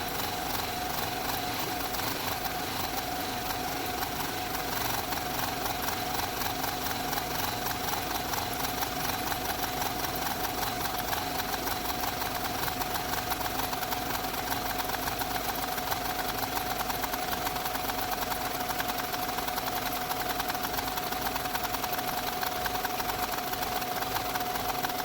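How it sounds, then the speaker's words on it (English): A 2007 Subaru Outback engine idles roughly with a slight shake, giving a steady, continuous mechanical drone with a faint rhythmic unevenness throughout, heard up close without talk. "That engine's got a bit of a shake to her."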